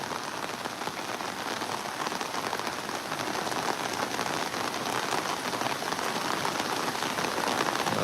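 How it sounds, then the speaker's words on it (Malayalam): Heavy, unexpected rain pours steadily on a work site during flooding, a dense, even hiss of drops hitting surfaces that stays loud and unbroken from start to finish, with no talk. "ഒരു രണ്ട് മണിക്കൂറേ പെയ്തോളൂ ആ മഴ"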